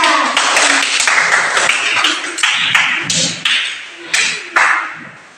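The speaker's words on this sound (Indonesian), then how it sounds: "Tepuk tangan untuk kelompok 3" Schoolchildren in a classroom clap for a group's presentation, bursts of sharp rhythmic claps in short cheer-like patterns, close and loud, with a few isolated final claps.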